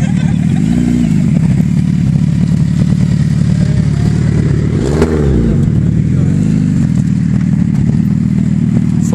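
A motorcycle fitted with an Akrapovic exhaust idles with a deep, loud rumble close by. It blips the throttle in a few short revs, with the sharpest surge midway and smaller ones before and after.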